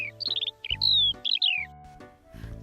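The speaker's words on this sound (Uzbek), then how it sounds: "To'kan." A toucan giving a series of loud, clear, rapid chirping and squawking calls, in short bursts over a faint low background hum.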